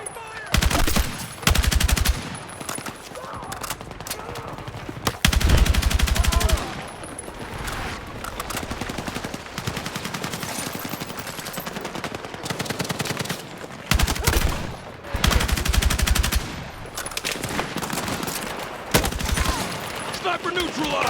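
Heavy gunfire in the Battlefield 6 campaign, repeated long automatic bursts and rattling volleys, loud and close, with voices calling out between the bursts.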